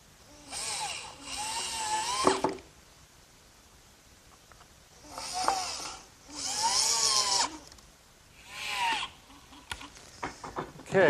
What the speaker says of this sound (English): I'm ready to set this piece in place and fasten it to the frame with some screws